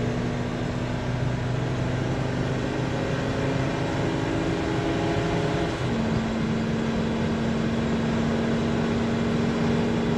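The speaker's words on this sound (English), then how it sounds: "Shifts perfect, even going up this hill from a dead stop." Inside a 2017 Thor Four Winds 24F Class C motorhome built on a Ford chassis with a 5-speed torque shift transmission, the engine drones steadily as it pulls up a hill, a loud continuous hum with a shift partway through.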